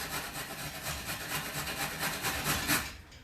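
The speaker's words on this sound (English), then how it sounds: "Let's grate some carrots." Carrots are grated by hand on a metal grater, making a fast, even run of close rasping strokes with no talking.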